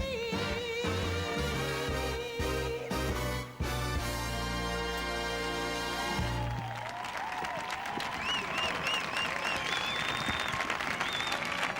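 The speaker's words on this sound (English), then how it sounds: "Beaming smiles, sustained applause." Orchestral ballroom music fades out after a foxtrot at the 2003 European Standard dance championship in Spain, then sustained audience applause swells up under whistles and cheers and keeps going to the end.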